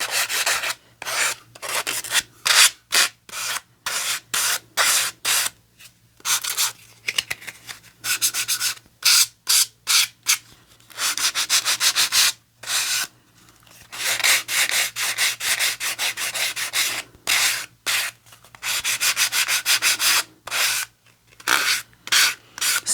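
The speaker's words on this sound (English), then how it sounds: "I need my sandpaper block." Sandpaper on a block rubbed by hand over a small altered playing card craft piece, in rapid repeated strokes with short pauses between bursts, close and fairly loud with no talking.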